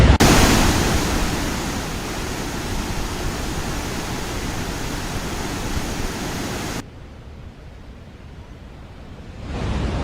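Heavy rushing water released from Gangrel dam, a loud, steady broadband roar that carries on for several seconds, then drops abruptly to a quieter, softer wash before swelling back up at the end.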